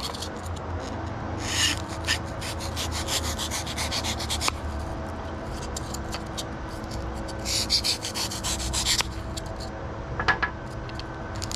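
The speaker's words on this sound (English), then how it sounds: "I'm just going to cut down the edges a bit" Sandpaper rubbing and cutting down the edges of a squid lure body, a continuous close scratchy abrasion with brief louder strokes, heard alone without talk.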